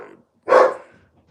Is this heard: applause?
no